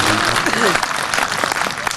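A burst of audience clapping at a Hindi poetry recital, dense and close, with voices mixed in under the applause throughout.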